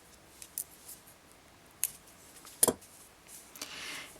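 Small scissors snip through beading thread while someone makes Superduo and Miyuki seed bead earrings, a few crisp, quiet clicks scattered across a hushed room, with one sharper cut standing out.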